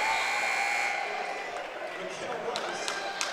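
A basketball game buzzer sounds at the end of the third quarter of a high school holiday tournament semifinal, a loud sustained tone in the opening second over a noisy crowd, followed by cheering and a commentator talking.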